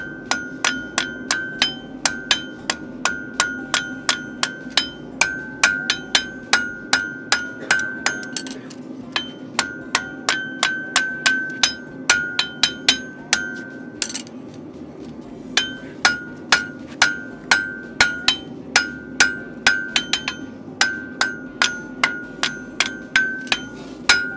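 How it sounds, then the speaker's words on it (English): Repeated sharp metallic hammer blows strike a car body panel in steady bursts with brief pauses, each hit ringing bright and close, with no talking. "Just gonna come down, hammer one time."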